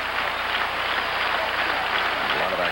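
A 1971 World Series Game 1 crowd in Baltimore, mostly Orioles fans, makes a dense, steady roar of cheering and applause that fills the whole moment without a break.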